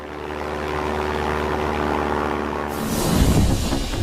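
Propeller airplane in flight, a steady droning engine hum with a tonal buzz that swells into a louder, rougher roar near the end, heard alone without voices.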